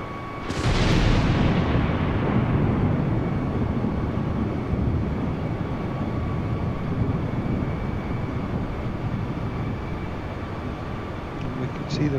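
Airbus A320neo in Microsoft Flight Simulator cruising toward an ILS approach, its steady broadband engine and airframe roar holding loud and continuous throughout, with a brief sharper burst near the start.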